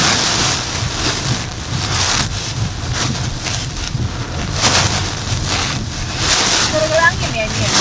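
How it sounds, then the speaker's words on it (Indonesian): Strong wind buffets a car on the Jambi to Padang road, a loud, steady roaring rush with gusty swells, while people talk over it. "Tapi anginnya kencang banget nih."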